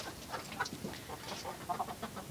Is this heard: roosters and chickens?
yes